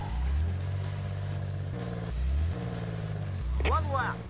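A car driving in the old PC game Urban Chaos: a low, droning engine hum that rises and falls in steady cycles like gear shifts, under a voice talking.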